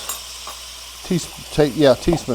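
Garlic sizzles in a hot pan as it cooks for garlic butter steak bites, a steady close fry with a few louder bursts of stirring or tossing near the end.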